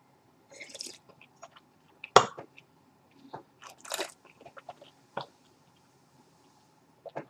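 Wine being tasted: a sharp slurp drawing air through a mouthful, followed by scattered wet mouth and swishing sounds, close and fairly quiet with pauses between.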